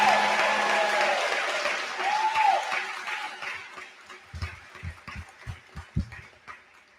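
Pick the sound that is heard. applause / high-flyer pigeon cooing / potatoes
applause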